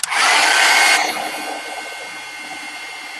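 A hair dryer blows loud and close for about a second to dry paint on a small artwork, then drops to a softer steady whir for the rest.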